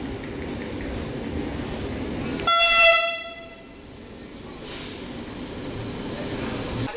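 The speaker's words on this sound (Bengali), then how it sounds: "এখন কিন্তু চলে এসছে আমাদের এই বন্দে ভারত ট্রেন" A loud Vande Bharat Express train horn blasts with a stacked harmonic tone for about a second as it arrives at Patna platform one, over steady rumbling station noise that briefly drops away afterward.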